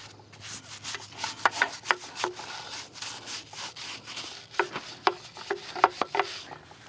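Rhythmic scrubbing strokes with dish soap on a 1967 Ford F250 engine, close and moderately loud, rubbing back and forth in an irregular series of short bursts with no talking.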